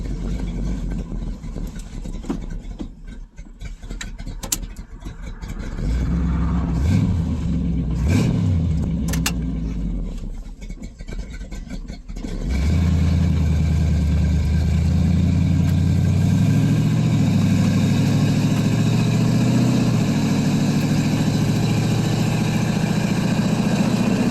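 A small-block Chevy 355 with a carburetor, fitted to a 1987 Toyota 4WD pickup with a 700R4 transmission, idles on a cold start, then rises into a loud, steady drone as the truck drives off, close up and with no talking.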